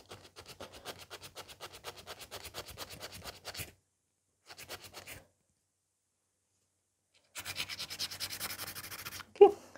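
Acrylic fiber gel nail sides being filed, a rapid rhythmic scratchy rasp in close repeated strokes, pausing twice, with a brief louder bump near the end.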